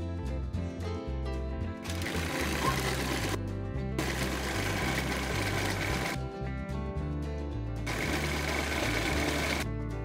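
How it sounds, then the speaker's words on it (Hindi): A sewing machine stitches around double-layered fabric leaf pieces in fast mechanical bursts that start and stop several times, loud and close. "इनके ऊपर इस तरह से किनारों में सिलाई लगा लेंगे।"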